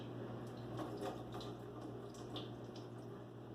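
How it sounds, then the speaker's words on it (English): Brine is poured off from a fermenting mason jar of packed vegetables, making a steady, continuous liquid trickle and splash close up, with no talk. "I'm going to pour off some of the excess brine to just allow for about an inch"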